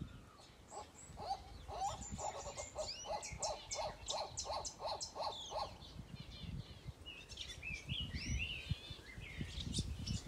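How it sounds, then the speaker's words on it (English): Male white-cheeked turaco calling in an aviary: a faint, rapid series of low barking hoots in a steady rhythm, then pausing, with other birds chirping and rustling nearby. "it is the white-cheeked turaco male you can hear in the background. Almost sounds like a dog"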